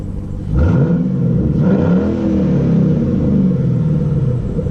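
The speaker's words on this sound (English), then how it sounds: "There's like a sucking induction noise from the K&N filter, I guess" A 2005 Ford Mustang GT V8 with a K&N intake filter idles with a deep, close rumble and induction sucking, then revs up and settles, its pitch swelling and falling steadily.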